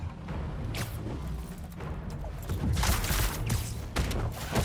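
A grenade blast in the video game Marvel's Spider-Man 2 erupts as a loud, broad explosive burst with crackling gunfire-like rumble, standing out from steady game background noise.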